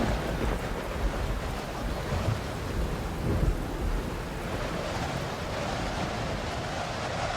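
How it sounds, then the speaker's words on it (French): Steady rain and rumbling thunder wash through the whole stretch, a dense, continuous roar with heavier low swells, no voices heard. "Nous devons sortir de cette tempête."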